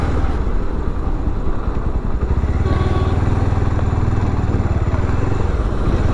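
A motorcycle rides along an icy mountain road with patches of black ice, heading toward the Atal Tunnel at Rohtang near Manali in winter. The engine drones steadily and close throughout, with a faint rattle and no talking.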